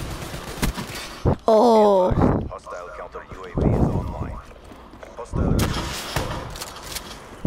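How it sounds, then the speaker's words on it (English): Close, booming shotgun blasts in Call of Duty: Black Ops III multiplayer, a few heavy shots spaced apart amid game effects, with a voice briefly exclaiming near the start. "Oh, this is a shotgun."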